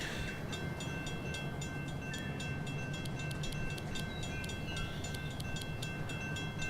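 A model train runs on a layout in the Rolling Line model railway game, pulling coal cars, box cars and passenger cars, with a steady rolling rumble and regular light clicks from the wheels over the track.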